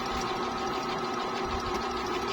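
A Brother push-button electronic sewing machine stitching steadily, its close, continuous motor hum and rapid needle clatter running without pause.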